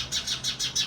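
Sparrows give five quick, bright chirps in rapid succession, close by and fairly loud, with no voices.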